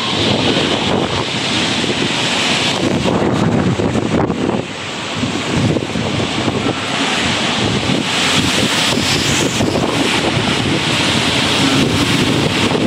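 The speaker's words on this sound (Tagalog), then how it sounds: "Malakas ang hangin." Strong wind roars steadily into the microphone for the whole stretch, buffeting loudly with a constant rushing, surf-like noise, during a storm that damaged a roof.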